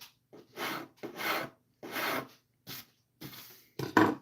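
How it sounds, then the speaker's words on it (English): A hand rasp files a wooden workbench edge, smoothing hatchet marks in a series of about seven quiet, close scraping strokes with short pauses between them. "So now we just rasped off those like hatchet marks."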